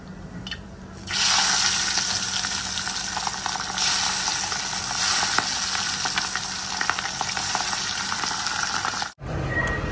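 Loud, continuous sizzling of food with potatoes frying in a hot pan, with faint scraping from stirring, cutting off abruptly near the end.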